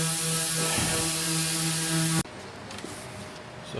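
Steady loud mechanical whine and ratcheting from jacking up an engine on a 2014 Nissan Sentra during motor and transmission separation, running continuously for about two seconds, then cutting off abruptly to quieter shop noise with faint clicks.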